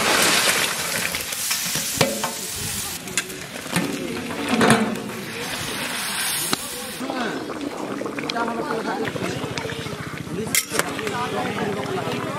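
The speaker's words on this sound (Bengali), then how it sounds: "এবার আমরা ভাজা শঙ্কর মাছগুলো দিয়ে দেবো।" Pieces of fried stingray drop into a simmering meat-masala gravy and are stirred, giving sizzling, bubbling and scraping in the pan, with a few sharper clatters, while a person talks over the cooking.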